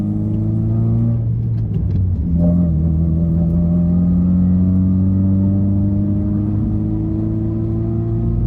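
A 2008 Honda Civic FD with manual transmission accelerates with a steady, loud droning exhaust note that drops briefly during a gear change before climbing again, heard continuously from inside the cabin.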